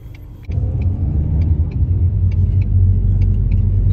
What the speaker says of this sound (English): And LA traffic.